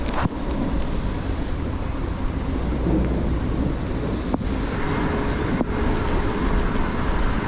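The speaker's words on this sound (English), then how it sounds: "It's crackling away, that thunder is." Heavy rain pours down steadily during a thunderstorm, with low thunder rumbling through it and wind buffeting the mic while riding an e-bike.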